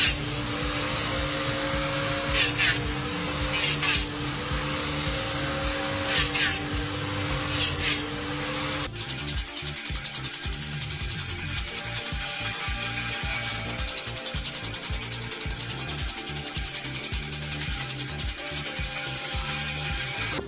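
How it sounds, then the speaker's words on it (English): A cam-driven chain-making machine bends, cuts and shapes wire into interlocking links, its rapid mechanical clatter and whirring running continuously, with a steady hum at first, then a denser rattling rhythm. "A machine engineered for high-speed chain production, using cam-driven precision to bend, cut, and shape wire into perfectly interlocking links."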